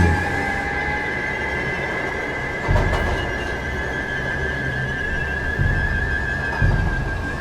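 A cartoon train rumbles steadily along the rails, with a constant whining tone overhead and periodic heavier thumps of wheels over rail joints, loud and continuous with no voices.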